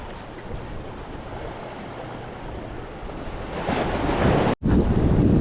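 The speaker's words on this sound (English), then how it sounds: "that is the surf out there. That is insanely rough, insanely choppy." Rough, choppy ocean surf on the New Jersey shore at Barnegat Inlet, heard as a loud continuous wash of breaking waves with heavy wind buffeting the microphone and a brief dropout near the end.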